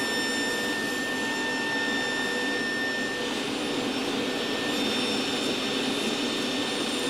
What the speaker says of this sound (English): Here I'm using the stop block to cut the sides to the same length for both the short side and the long side.